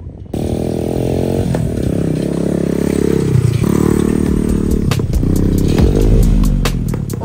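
A dirt bike engine idling and revving in steady bursts, loud and close, with some mechanical clatter from the bike, which has its drive chain come off.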